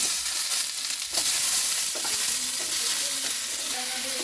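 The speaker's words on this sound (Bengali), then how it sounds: "সবজিগুলো হালকা করে ভাজা গেছে" Vegetables lightly salted and frying in a pan for a homemade chicken soup, giving a steady close sizzle broken by occasional stirring scrapes, with no talking.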